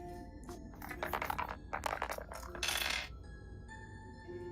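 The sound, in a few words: two dice rolled on a table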